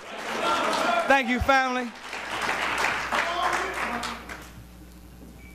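Audience applause fills the room throughout, a steady wash of clapping that swells at the start and gradually thins, with a voice speaking over it near the middle.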